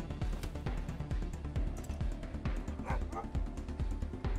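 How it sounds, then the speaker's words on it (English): Neighbours' dogs bark in quick, repeated yips and bow-wows through the clip, a steady stream of barking with game sounds and a voice running underneath. "I just hear barking constantly"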